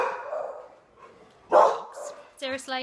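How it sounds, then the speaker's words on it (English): Someone speaks while dogs bark in the background, with a couple of short, sharp yips near the end. "Stop barking!"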